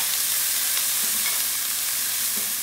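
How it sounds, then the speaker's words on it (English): Garlic and chili paste frying in a pan, a steady bright sizzle with a few soft stirring scrapes, close and continuous with no voices. "it's frying very well."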